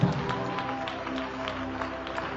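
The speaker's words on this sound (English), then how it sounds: "Come on, church, clap hands for Jesus." A church congregation claps hands together in a steady, repeated rhythm, the sharp claps spread through a room and sitting under a low wash of crowd sound and faint voices.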